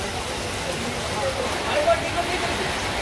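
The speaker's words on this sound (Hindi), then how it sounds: "मैं आशा करता हूँ कि ये बारिश छूट जाए" Steady rain falls on a waterlogged road on a rainy night in Raipur, a continuous broadband wash of patter with no break, moderately loud and close.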